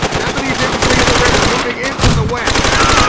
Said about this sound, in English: Enemy MG!